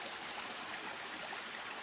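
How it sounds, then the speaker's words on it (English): Spring water trickles through jungle, a faint steady hiss and babble of flowing water with no pauses and no voices. "That's our spring water in the jungle"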